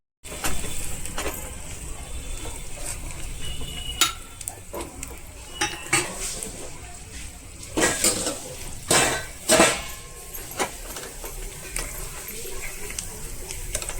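Chillies are stirred in a pan with a metal spoon, giving repeated clinks and scrapes against the cookware over a faint sizzle, with a few louder knocks near the middle, close by and without clear talk.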